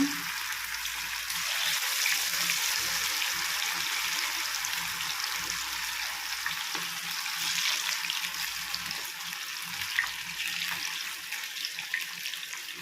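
Chicken 65 fries in a kadai with a steady, close hiss and sizzle of hot oil and faint crackles, continuing evenly without speech.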